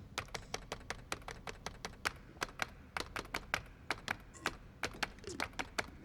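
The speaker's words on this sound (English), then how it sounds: "Starting with a typewriter sound." Rapid, irregular clacking of typewriter keys, crisp taps in a quick stream over a low background hum.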